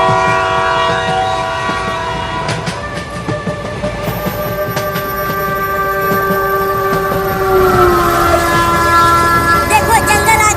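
Cartoon train running with a loud, sustained horn and steady rolling rail noise, the whistle tone shifting in pitch near the end, with faint voices underneath.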